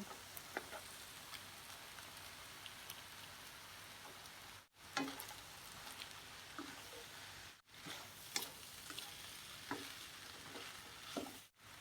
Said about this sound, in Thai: ตอนนี้เราก็ผัดไปเรื่อยๆ จนให้น้ำมันแห้งนิดหนึ่งนะคะ